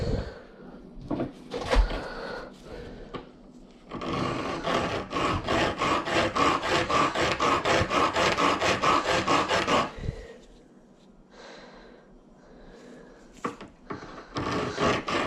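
Hand sawing on a handmade gold ring band, a fast run of rhythmic back-and-forth rasping strokes in the middle, close and clear, with quieter handling scrapes before and after.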